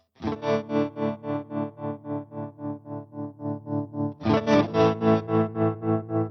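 Electric guitar chords strummed through the vibrato channel of a Universal Audio Ruby '63 Top Boost amp, pulsing and wavering, several steady strums, then a brighter, louder chord that keeps throbbing.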